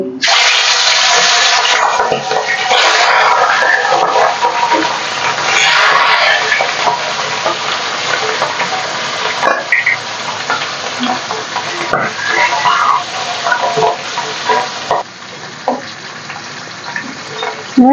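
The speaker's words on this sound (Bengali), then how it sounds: "তেলও দিয়েছি গরম হয়ে গিয়েছে মাছটা ছেড়ে দিচ্ছি" Rohu fish pieces drop into hot oil in a wok and fry with a loud, continuous crackling sizzle that eases slightly over time, with occasional spatters and utensil clinks and no talking.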